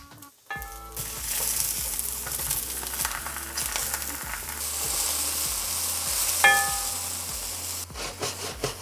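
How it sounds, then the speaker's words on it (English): Mushrooms hit a hot pan for a creamy garlic mushroom dish, setting off a loud, steady sizzle with occasional scraping and stirring strokes, close up and without talk. "add the mushrooms, straight in. You hear that sizzle?"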